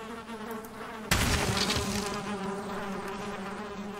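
Bees buzz around beehives in the video game Valheim, a steady close insect drone with a sudden louder swell partway through as one passes near, continuing without speech.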